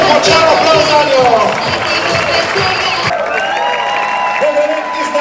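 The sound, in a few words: strong applause from spectators at bridge diving event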